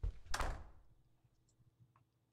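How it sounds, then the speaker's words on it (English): A door in the horror video game Hotel Remorse shuts with a single heavy thunk that fades into a quiet, hollow room tone, and no one speaks. "Okay, door closed."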